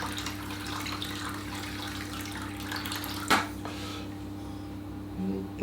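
Water is poured steadily into a baking dish to form a water bath around a dish of baked custard, a continuous close trickle over a low hum, with a brief clink partway through.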